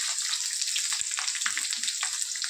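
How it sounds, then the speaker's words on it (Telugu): Dry red chillies, onions and garlic crackle in hot oil with a dense, bright sizzle, punctuated by a few soft pops and stirring knocks, close and continuous without any speech. "వట్టిమిరపకాయలు వేసాను చూడండి"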